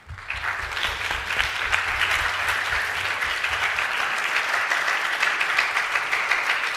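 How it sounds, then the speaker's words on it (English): An audience at a high school English debate competition breaks into a round of applause, a dense, even wash of clapping that rises quickly and holds steady throughout. "You can give a round of applause."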